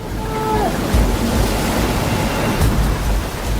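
Storm surf and rolling waves crash steadily near the coast of Africa, a dense wash of water noise with heavier low thuds around the second and near the end, alone without speech.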